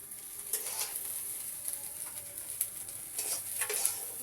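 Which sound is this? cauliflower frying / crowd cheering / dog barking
cauliflower frying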